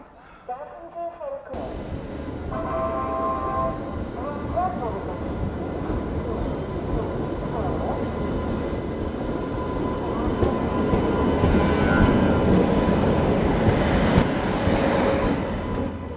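Suhaildev Express train pulling into a station on a foggy night, a steady rail rumble with brief squeals and clanks that swells toward the end, people talking faintly underneath.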